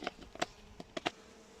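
Honey bees buzzing during a varroa mite check as they are shaken into a container, heard as a few brief, faint buzzing bursts in quick succession.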